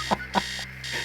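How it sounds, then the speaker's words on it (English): An alarm clock blaring upstairs in a neglected house in Stories Untold, two sharp rapid bursts of ringing followed by a fainter tail, muffled as if from another floor. "Upstairs, the sound of an alarm clock blaring."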